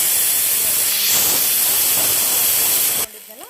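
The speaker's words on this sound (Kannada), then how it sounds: "ಸೀಟಿ ಕೊಟ್ಟು ಒಂದು 2-3 ಸೀಟಿಯನ್ನು ಕೂಗಿಸ್ಕೊತೀವಿ" A pressure cooker with bisi bele bath releasing a loud, steady rush of hissing steam close by for about three seconds, then abruptly cutting off to quiet.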